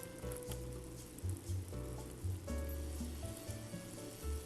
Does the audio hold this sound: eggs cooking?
yes